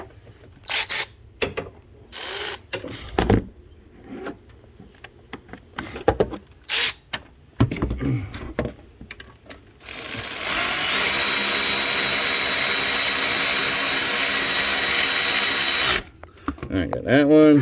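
Power tool driving bolts during an alternator replacement on a 2002 Ford Expedition with the 5.4 liter engine, with scattered clanks and ratchet clicks, then one long continuous whir lasting several seconds.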